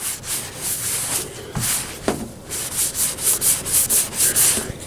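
Body filler being sanded by hand in circular strokes to feather the edges of a repair spot on a vehicle panel, a steady, close rasping rub that swells and fades in a regular rhythm, with no talk.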